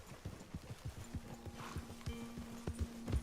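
A horse in Red Dead Redemption 2 walks with a steady clip-clop of hooves, close and moderately quiet, over a faint held tone.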